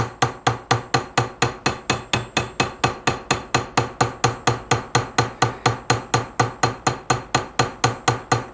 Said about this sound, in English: the more I hammer it, the more life the leaf will get